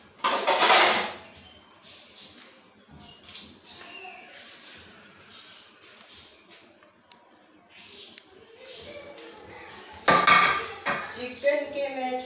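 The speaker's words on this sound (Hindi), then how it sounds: "चिकन के मैं छोटे छोटे पीसीस कर लूँगी जो इसमें ऐड करने के लिए" A knife chops bone-in chicken into small pieces, with clinks and clatters of blade and utensils against a board or dish, including louder bursts at the start and near the end.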